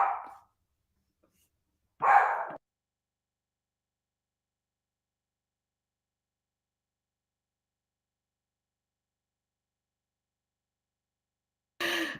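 Two short dog barks a couple of seconds apart, then a long silence before a third bark at the very end.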